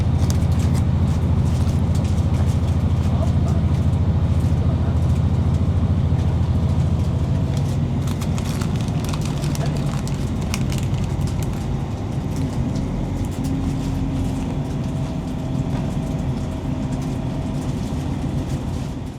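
Loud, constant rumbling and rattling inside a moving first-class train carriage from Manchester to Cleethorpes, with low engine drone and clanking over the tracks throughout.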